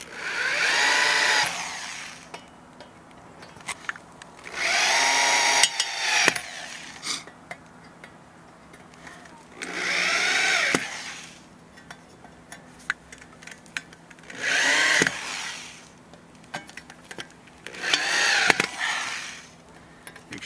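A power drill drives screws into a mounting bracket for a tilt-over antenna mast, running in several loud bursts of a few seconds each with quiet gaps and small clicks between them.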